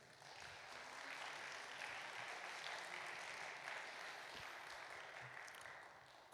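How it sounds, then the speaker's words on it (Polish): An audience at a Polish carol-singing festival applauds the jury chairwoman as she is called to the stage, a continuous, even wash of many hands clapping, heard from a distance and fairly quiet. "Wielkie brawa dla niej"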